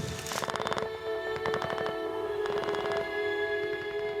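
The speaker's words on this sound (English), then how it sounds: "Covered by machine gun fire, Cornish boy Cyril Jose was emerging from the trenches." Machine gun fire in a First World War trench battle, rapid bursts of rattling shots repeating in short volleys over a sustained background tone, loud and without talk.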